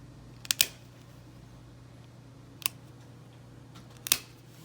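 Clippers snip a dog's nails, tipping each one. Three sharp, crisp clicks come close up in quiet surroundings, spaced a second or two apart, over a low steady hum.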